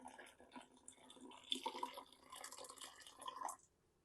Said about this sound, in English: we're going to add just a little bit of hot water to this, just so we can dissolve the sugar.